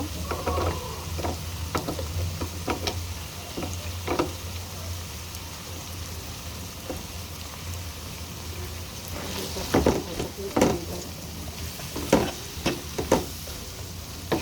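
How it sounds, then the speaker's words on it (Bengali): Steady sizzling of potatoes frying in a pan, with occasional scraping and stirring clatters breaking through, loudest near the end. "আলুটা ভাজা ভাজা হয়ে আসছে"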